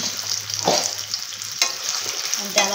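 Jaggery is stirred continuously in a pan with water as it heats into syrup for sesame ladoos, with a soft bubbling sizzle and a few scraping strokes of a spoon, no voices.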